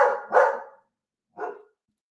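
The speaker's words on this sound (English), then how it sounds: "the dog's about to go nuts" A dog barks close by in a few loud, sharp bursts: two quick barks together, then a pause and one more, with no talk around them.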